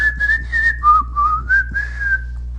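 A person whistles a short, wavering tune alone, the pitch sliding up and down through a few sustained notes with slight breathy gaps, close and clear over a faint low hum.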